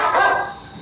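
A phone ringtone app plays a single short, sharp dog bark, loud and close, fading quickly.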